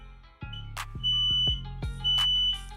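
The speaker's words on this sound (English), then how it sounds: "The smoke alarm works." A household smoke alarm sounds a series of sharp, loud electronic beeps and chirps at close range, irregularly spaced, with a steady background hum and no speech.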